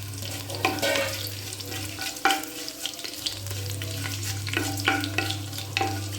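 Cumin and fenugreek seeds go into hot oil on a low flame for a spiced Punjabi kadhi tempering, giving a steady close sizzle with scraping stir strokes over a low hum; no one speaks.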